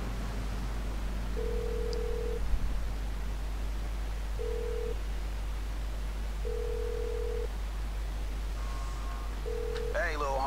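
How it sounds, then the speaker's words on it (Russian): A phone call ringing in the video game GTA 5: evenly spaced electronic ring tones repeat four times over steady background hum, each burst short and clear, ending as brief voices start at the close. "Давайте позвоним ему."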